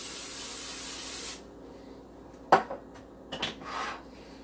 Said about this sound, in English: we spray it with a little cooking spray on the bottom